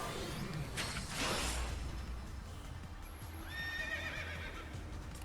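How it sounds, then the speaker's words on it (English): A horse whinnies loudly in the Final Fantasy XIII video game on PlayStation 3, one long rising and falling neigh over a dense rumble of game ambience, with bright ringing tones near the end. "It's a horsey."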